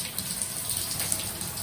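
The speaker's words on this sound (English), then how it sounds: "It's like the weirdest shower you'll ever have." Water pours steadily from a running shower, a continuous hissing spray that stays close and even throughout, with no voices over it.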